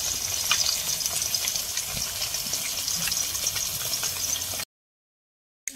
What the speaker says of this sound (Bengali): মাছ ভেজে নিচ্ছি, কাঠের জালে রান্না হচ্ছে।